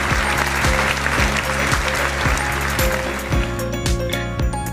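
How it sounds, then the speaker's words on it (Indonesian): A primary school class applauds indoors in a lively burst of many hands clapping, steady and close, that fades slightly near the end. "Beri tepuk tangan."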